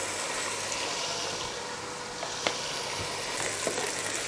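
Chicken sizzling in a karahi with ginger garlic paste for a street-style Cholistani chicken karahi, a steady hissing fry with small pops and stirring clinks, no talk.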